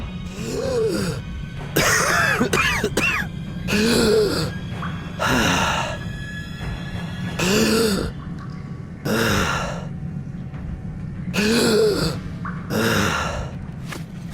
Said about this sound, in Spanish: nuestro personaje comenzará a toser y se le dificultará el respirar